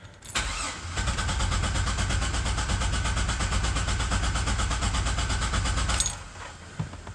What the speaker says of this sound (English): I got the truck running and I could definitely feel a misfire